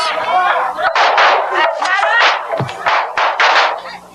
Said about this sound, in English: Firecrackers scare away evil spirits as the head of the family enters first